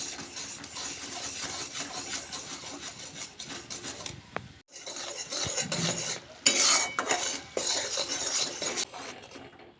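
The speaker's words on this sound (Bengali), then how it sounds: "নেড়ে নেড়ে গুড়টাকে আমি পাক করে নেব একটু" Jaggery melting in a pan is stirred with scraping, rubbing strokes that come in uneven bursts, with a short pause partway through before the scraping picks up again.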